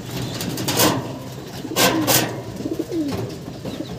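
Pigeons in a loft coo in a low, near, steady burble, broken by a few sharp bursts of rustling or wing clatter, with no one talking.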